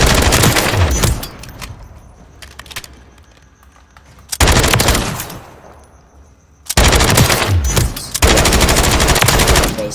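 A Bruin MK9 machine gun fires in Call of Duty Warzone: a loud sustained burst, a pause, a shorter burst, another pause, then a long burst of rapid fire to the end.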